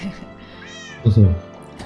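A cat meows once, close and clear, in the Minecraft Cobblemon multiplayer game, with a voice talking around it over a low game background.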